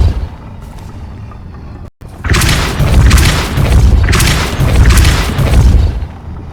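A Depulso force spell strikes in Hogwarts Legacy, landing as heavy booming blasts with a rumbling roar that swells and surges for several seconds after a brief silent break.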